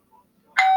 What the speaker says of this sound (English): They're just about to eat them when the doorbell rings.